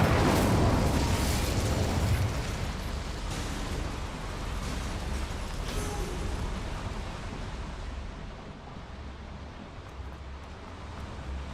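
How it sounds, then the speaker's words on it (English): A fire spell is cast in a video game and lights flames with a broad, roaring whoosh. It is loudest at the start and settles into a steady crackling rumble that slowly fades. "Incendio should be enough to light these flames."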